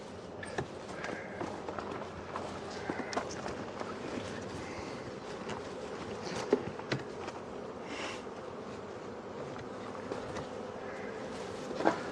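A steady honeybee buzzing hums close by at a hive, with occasional rustles and soft bumps mixed in, continuous for several seconds without talk.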